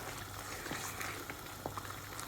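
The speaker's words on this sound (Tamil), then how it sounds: "ஒரு 5-10 நிமிஷம் நல்லா கொதிக்கட்டுமா." Spinach and paneer curry simmers in a covered pot: a soft, steady bubbling hiss with scattered small pops and blips, close by and alone.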